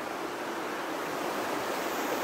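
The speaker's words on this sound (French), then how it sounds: "Regardez le petit ruisseau là." A small stream flows steadily along a hiking trail in the Célé valley, a continuous, close, even rush of water with no voices.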